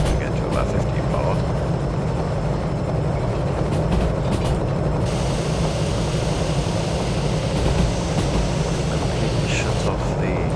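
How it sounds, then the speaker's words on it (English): Steam hiss from an S060 tank locomotive blowing off pressure in Derail Valley, a steady broadband roar held for the whole stretch alongside low rumbling train running noise, with a voice talking over it at times. "That hissing you can hear is us blowing off to get to about 50 bar."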